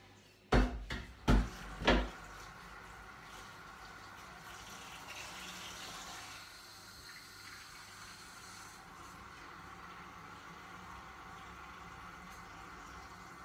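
Water is poured into a pot over beef tripe and tongue for callos. A few sharp knocks come first, then a steady, soft rush of filling water.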